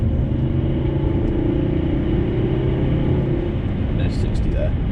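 Interior of a 2009 Volvo S80 D5 under acceleration: a steady low engine and road rumble fills the cabin, with a brief lighter sound near the end.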